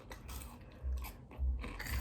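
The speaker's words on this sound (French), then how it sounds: "Les frites un petit peu trop cuites. Ouais, mais elles sont croquantes, du coup ça c'est bien." Crunchy, slightly overcooked French fries being bitten and chewed up close, a few crisp crunches spread over a couple of seconds, fairly quiet with no talking.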